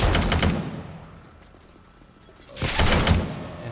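Gunfire in the zombie survival game 7 Days to Die, played with the Undead Legacy mod: a loud rapid burst of shots, a pause with fading echo, then a second burst, no talk.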